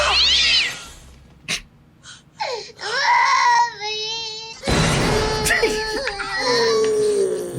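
Several cats meow loudly and repeatedly in a film scene, drawn-out plaintive cries rising and falling, close up, with a short clatter midway.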